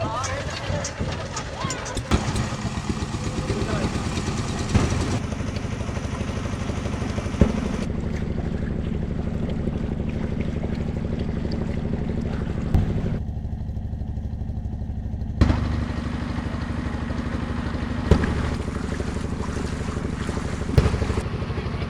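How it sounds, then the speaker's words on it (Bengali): A motorboat crosses the river between Gazipur and Narsingdi; its engine drones steadily and loudly, mixed with wind buffeting the microphone and occasional knocks, while people talk over it, the tone shifting as the engine eases near the landing. "বোটের ইঞ্জিনটা বন্ধ করা হয়েছে"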